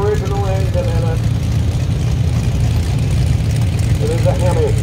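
A 1939 Farmall F20 tractor fitted with a non-original Hemi engine rumbles in a farm club tractor parade, a loud, steady low engine drone throughout, with voices talking over it.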